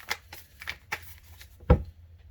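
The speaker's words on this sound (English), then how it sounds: "that was several shuffles and nothing came out" Tarot cards being shuffled in a quiet room, a series of soft papery riffles and flicks with one sharper, louder snap of cards near the end, no voices.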